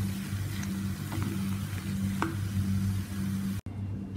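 Chopped coriander leaves being stirred into a frying vegetable mixture for Bangladeshi vegetable cutlets, giving a steady close sizzle with a few soft scrapes, then a brief drop near the end.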